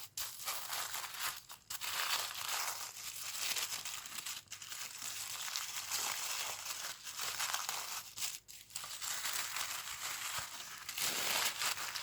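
Tissue paper wrapped around a water bottle crinkles and rustles almost continuously as it is pulled away, close and fairly loud, with brief pauses and bursts of tearing-like crackle.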